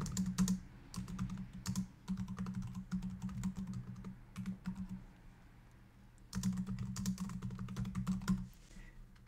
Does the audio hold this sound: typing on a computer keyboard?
yes